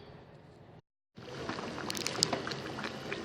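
Marinated chicken for tandoori chicken is dropped into a hot kadai, giving a sudden loud hiss and sizzle after a brief silence, sustained and close.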